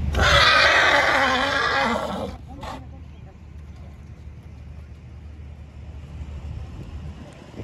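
A horse neighs loudly and close at an IHOA horse show in a ring, a harsh two-second whinny followed by a brief snort, then steady outdoor crowd and background noise.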